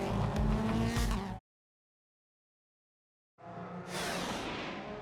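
IMSA prototype race cars drive through the Trois-Rivieres street circuit under caution, engines whirring and revving up close, broken by a two-second gap of silence before the passing drone resumes.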